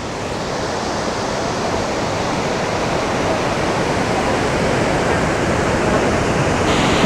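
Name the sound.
Great Falls waterfall on the Potomac River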